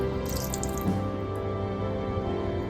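Coconut oil and vinegar poured onto chicken pieces in a bowl while making a Kerala-style chicken roast, giving a soft, steady trickling and dripping close by with no voices.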